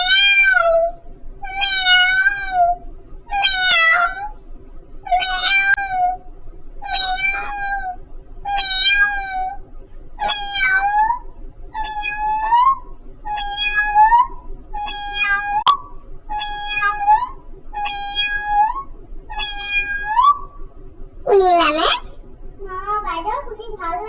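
A person imitates a cat, giving a long string of about fourteen evenly spaced, close, clear meows, each rising and falling in pitch, ending with a longer, wavering drawn-out yowl.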